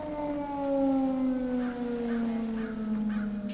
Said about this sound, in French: ça fait penser à Siren Head avec la sirène derrière